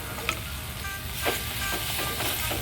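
Sliced onions sautéing in a pan for egg curry, a soft continuous sizzle and crackle broken by a few quick scraping stirs, close and fairly quiet, with no talking.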